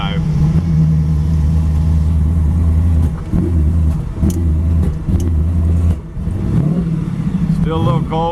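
A 1932 Ford Victoria hot rod with a Hemi engine, Tremec 5-speed and Jaguar rear end, drives with a steady low engine drone that dips and swells as gears change, close and loud, with someone talking over it.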